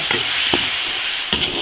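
Tofu and cured pork tossed in a hot wok: a continuous loud sizzle with three distinct scraping strokes of the spatula against the metal, close up.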